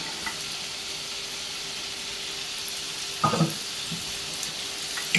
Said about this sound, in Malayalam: ഇവിടെ നമ്മുടെ ചിക്കൻ ഒരു സൈഡ് ഫ്രൈ ആയപ്പോൾ ഞാൻ മറിച്ചിട്ട് കൊടുത്തിട്ടുണ്ട്